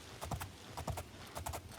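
Horse hooves clip-clop in the video game Oblivion, in uneven groups of two or three quiet, close hoof strikes over a faint low background.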